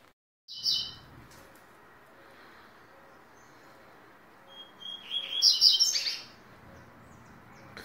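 A small double-collared seedeater gives a short chirp, then after a quiet pause a brighter burst of song rises near the end, close and clear.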